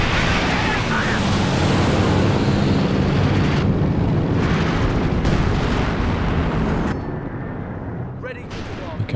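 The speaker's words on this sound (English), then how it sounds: "One of the planes shot down." A plane going down in a Company of Heroes 2 battle brings a loud, dense roar of explosions and gunfire that rumbles without letup, then thins slightly near the end.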